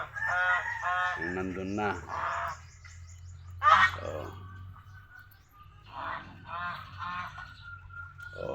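Ducks in a pen give several nasal honks and quacks in short clustered bursts, close and fairly clear, with a few words of quiet talk and a low steady hum underneath.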